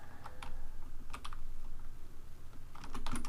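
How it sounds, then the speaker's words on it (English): Arrow keys on a computer keyboard are pressed to steer a flame sprite in Unity, giving scattered clusters of light clicks at a steady low level over a faint background hum. "you should be able to use arrow keys to move the flame"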